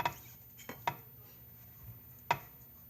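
Muffin batter of courgette, chorizo and goat cheese being spooned into small baking molds, a few separate light clinks and taps of a spoon against the molds in a quiet kitchen.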